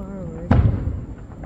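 Fireworks explode at a ballpark stadium show, one loud close boom with rumbling crackle afterward, following a brief stretch of voice.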